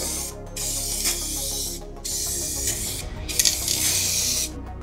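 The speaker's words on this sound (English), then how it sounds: "We are clear coating the shorty fender." Bursts of spray paint hiss onto a Harley Sportster rear fender as it is clear coated, several sustained blasts separated by brief gaps, close and loud with no talking.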